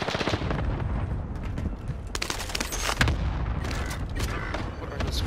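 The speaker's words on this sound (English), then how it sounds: "It's a shotgun!" Video game gunfire, including a shotgun, with rapid overlapping shots and a louder blast near the middle, dense and continuous.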